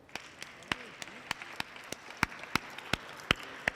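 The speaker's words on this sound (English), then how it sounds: "I want everyone here today to just give all of yourselves an applaud here for everything that you've done" Sparse, scattered handclaps from a small audience at a community grant award ceremony, a dozen or so sharp claps spread unevenly rather than a full sustained ovation, over quiet room tone.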